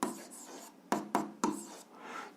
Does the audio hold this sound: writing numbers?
yes